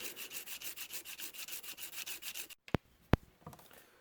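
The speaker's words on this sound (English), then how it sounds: "I'm going to do some 320 grit sandpaper here" Steady back-and-forth rasping of 320 grit sandpaper on a metal rear sight for a Kel-Tec P-11 pistol, about twenty quick even strokes up close, then two sharp knocks as work stops.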